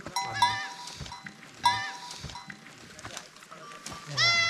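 A resting herd of free-grazing goats on a Himalayan trek toward Mardi Himal in Nepal's Annapurna range bleats repeatedly, wavering cries overlapping near and mid-distance, with a faint cowbell clank and people talking nearby.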